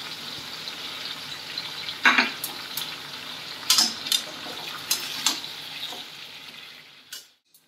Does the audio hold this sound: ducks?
no